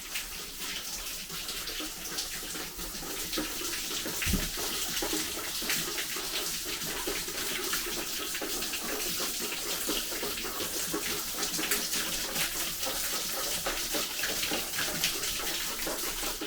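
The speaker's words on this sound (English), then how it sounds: "let's go inside and find that water leak" Water rushes continuously and fairly loudly inside a fire-damaged house, a steady splashing hiss with one brief thump partway through and no talk.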